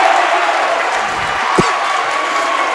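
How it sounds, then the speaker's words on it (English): Spectators at a boys high school basketball game, Brookings at Sioux Falls O'Gorman, cheer and applaud in a steady roar after a layup off a steal, with a short sharp thud partway through and voices mixed in. "Now you can hear that crowd, can't you?"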